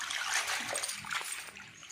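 Water splashes and pours steadily over leafy dori patwa bhaji greens being washed in a Chhattisgarh kitchen, a close, continuous wet rush with small splatters throughout.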